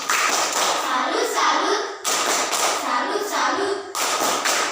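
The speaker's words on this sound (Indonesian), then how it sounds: "Tepuk salut untuk Aurel ini" Students in a classroom perform a rhythmic 'tepuk salut' patterned clap for a classmate, two short bursts of close, loud clapping with brief pauses and young voices mixed in.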